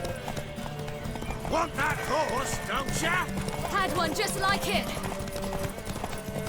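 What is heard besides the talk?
horse hooves galloping in The Witcher 3 video game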